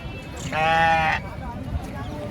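A sheep at a sheep and goat market gives one loud, close, wavering bleat lasting under a second, over a background murmur of voices.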